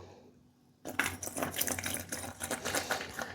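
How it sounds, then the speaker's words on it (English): Apple juice pouring into a fermenting vessel for a 9-litre home cider batch, starting abruptly with a steady splashing, glugging stream that continues to the end, close and fairly loud. "I'm just going to whack all of my apple juice in"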